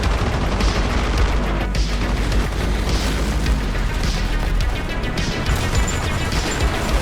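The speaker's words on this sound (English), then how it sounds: "That's when the enemy's airstrike comes in, trying to ruin my party." Enemy airstrike in Armored Brigade II, a constant roar of booming explosions and crashing blasts rolling on without a break, loud and dense, with scattered pops over it.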